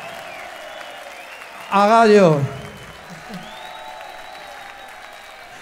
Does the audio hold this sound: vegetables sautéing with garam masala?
no